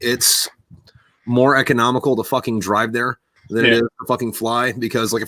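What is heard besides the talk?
No distinct noise like a dog, phone or traffic.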